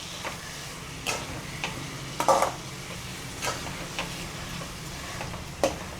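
Moong dal sautéed in ghee for a Chettinadu ukkara sweet, stirred with a spoon in a pan, giving soft scattered scrapes and clinks over a faint low sizzle.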